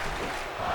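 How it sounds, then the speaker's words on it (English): A wrestling crowd at an SCW Grand Prix event cheering and roaring, a brief, steady wash of massed voices filling the space at a constant, fairly loud level. "The crowd is loving it."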